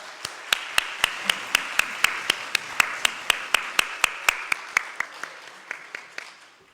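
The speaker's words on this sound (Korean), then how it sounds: "우리 박수로 솔로몬 찬양대를 맞이하도록 하겠습니다" Congregation at an Easter Sunday church service clapping in unison to welcome the choir, a crisp, steady rhythmic beat of about three claps per second that softens toward the end.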